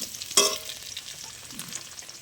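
Ground green chili and cumin paste added to hot oil in a pan for a hilsa fish curry with elephant foot yam, giving one sharp burst of sizzle that fades into a quieter steady frying hiss.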